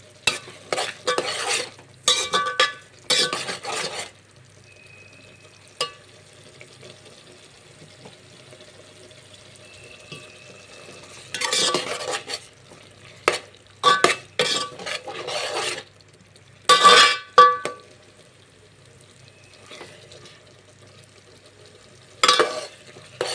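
Drumstick pieces tossed with salt, turmeric and chili powder are stirred in a pan, giving bursts of close scraping and rasping strokes separated by quiet gaps with faint sizzling underneath.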